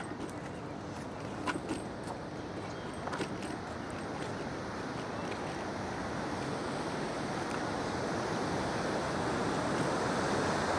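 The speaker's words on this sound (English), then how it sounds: "this is where the water kind of pools up and then it gets shoved through the dam." Water pools behind a small dam and is forced through it, making a steady broadband rush that swells slightly louder over time. It is heard outdoors with some wind buffeting and no talking.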